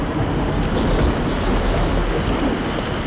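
Heavy rain pouring steadily, a dense, loud wash of noise with no pauses and no voices.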